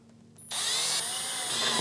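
A power drill drives screws into the tailgate trim of a Land Rover LR3, starting after a brief quiet moment and whirring loudly and steadily up close.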